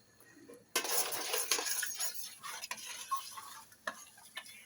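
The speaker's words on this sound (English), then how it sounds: "And we don't want it sticking to the bottom of the pan, do we? So keep stirring it." Chilli being stirred in a pan, with a spoon scraping and clinking against the metal in an irregular rhythm over a soft sizzle, close and moderately loud.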